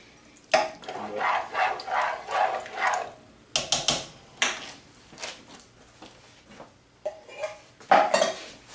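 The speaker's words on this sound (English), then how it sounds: "Also going to add a can of corn." Canned whole kernel corn tipped into a stew pot of ranch stew, heard as a run of clattering metal can and pot knocks and scrapes, fairly close and moderately loud, in bursts with short pauses, no talking.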